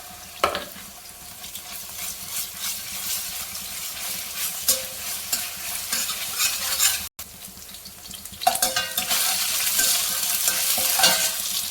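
Sliced onions frying in hot oil with three green chillies and half a spoon of ginger garlic paste, a steady loud sizzle with bursts of stirring and scraping in the pan.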